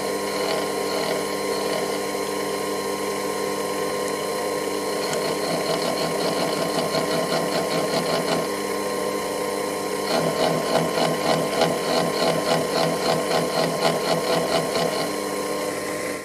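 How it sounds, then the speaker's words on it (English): A Proxxon PD 250 e lathe with an end mill cutting through tap threads gives a steady mechanical whir with rapid rhythmic ticking bursts in repeated passes, close and moderately loud, with no voices. "the end mill seemed to have no difficulty cleanly cutting through the threads"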